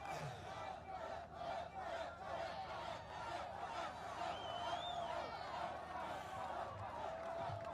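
A large outdoor crowd at a JD Vance rally in Michigan on a hot day, sustained roaring cheers and shouts with rhythmic chanting pulses and a whistle, dense and continuous.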